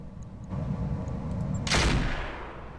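Mech weapons firing in the battle game Roguetech, a rumbling low barrage that builds and peaks in a sharp, loud blast before tailing off.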